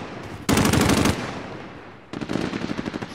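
Machine-gun bursts in Call of Duty Modern Warfare: a loud, rapid half-second volley, a pause, then a second quicker run of shots that sounds a little farther off.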